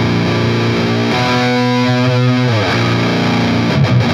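Ibanez Iron Label electric guitar played through heavy distortion, sustained thick chords ringing loud and close with a shift partway through, no talking.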